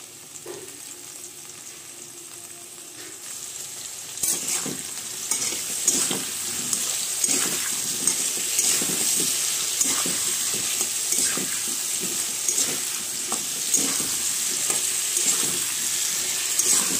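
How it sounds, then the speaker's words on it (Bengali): Potato, pumpkin and eggplant frying lightly with salt and turmeric, quiet at first, then a sudden loud burst of sizzling and steady crackle with repeated stirring scrapes, close up, no talking. "আমি আলু কুমড়ো আর বেগুনটা খুব হালকা করে ভেজে নিচ্ছি"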